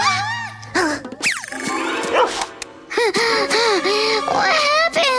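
A dog yips and barks excitedly amid high, squeaky voices and busy cartoon-like chatter, close and loud.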